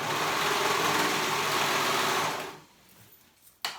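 A sewing machine stitches the bodice of a play date dress, a steady loud whir running without a break for about two and a half seconds before stopping, followed by a short faint click near the end.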